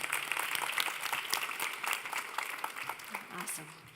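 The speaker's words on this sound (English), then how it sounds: "give yourselves a round of applause." A conference audience at a tech inclusion event clapping, a moderate steady applause heard from within the room, with a voice starting to speak near the end.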